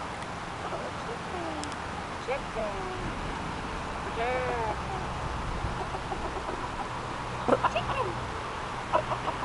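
A frightened chicken clucks and squawks while someone holds it, giving short rising calls in brief bursts over a steady background murmur, with a few sharper close taps near the end.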